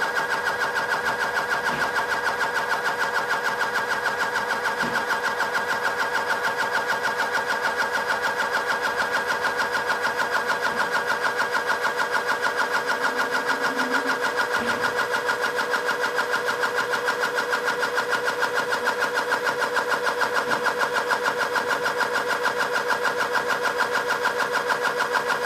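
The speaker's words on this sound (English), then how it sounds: "The pump has already been preset to stop at 300 psi." The built-in pump of a WIKA Mensor Wally Box III CPH7600 portable pressure calibrator running, a steady close mechanical hum with an even buzzing tone that holds without pause for about twenty-five seconds.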